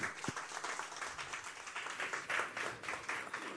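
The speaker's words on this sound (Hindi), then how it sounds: "एक बार जोरदार तालियां हो जाए" Audience applause at a Star Plus television show launch event, steady dense clapping that holds evenly throughout, moderately distant with a faint room echo and no voices on top.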